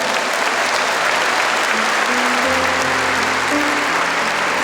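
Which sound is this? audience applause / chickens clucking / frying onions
audience applause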